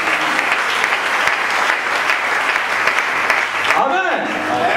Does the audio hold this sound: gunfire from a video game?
no